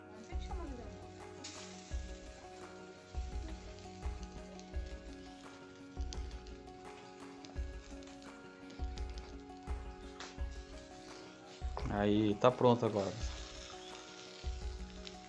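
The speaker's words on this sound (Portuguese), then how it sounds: "tá até chiando" Pork ribs sizzle and crackle steadily on a hot barbecue grill, with a person speaking briefly over it and a louder burst of sizzling near the end.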